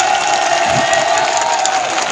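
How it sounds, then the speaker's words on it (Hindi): An audience at a mushaira, an Urdu poetry gathering in Lawar, applauds and cheers in a loud, dense, continuous burst of clapping mixed with a few whoops. "एक बार जोरदार ताली बजाइए।"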